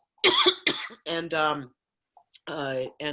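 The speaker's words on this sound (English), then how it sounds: "excuse me, my cough" A couple of sharp, close coughs during a city council meeting, followed by a person speaking.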